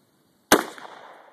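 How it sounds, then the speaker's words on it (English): AR15 rifle fired once, a single sharp, loud crack after a moment of silence, followed by a brief fading echo and ringing tail. "shooting the AR15 for the first time"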